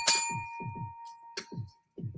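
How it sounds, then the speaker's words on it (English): A bell struck once with a bright, clear ringing tone that sustains and fades, while a voice talks intermittently over its decay. "I want the bell to sound clear."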